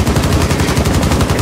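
Breaching rounds from the operator Ash blast into a floor in Rainbow Six Siege, a dense rapid string of loud close explosive bangs with no pause and no voices.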